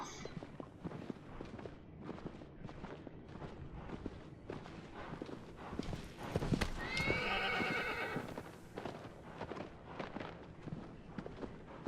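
A horse gallops in the video game Shadow of the Colossus, hooves clip-clopping in a steady rapid rhythm throughout, with a loud whinny rising midway.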